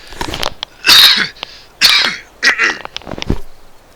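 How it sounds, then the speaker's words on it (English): A person with a failing voice and sore throat coughs several times in a row, loud, close bursts separated by short pauses, with a throat clearing among them. "Let me just cough this one out."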